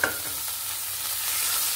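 Boiled fish pieces and chopped green chillies hit a hot pan with a sharp clank, followed by a loud, steady sizzle and hiss of frying while being stirred.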